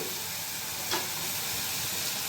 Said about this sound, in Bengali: এই সময় আমি লাউয়ের যে ছেঁকে রাখা জলটা ওটা আমি দিয়ে দেবো।